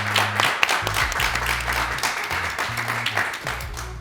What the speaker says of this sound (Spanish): Harto aplauso.